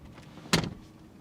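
A BMW X7's electric middle-row captain seat motors backward, giving a short whirring burst of about a quarter second that stands out against a quiet cabin.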